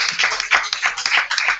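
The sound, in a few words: audience applause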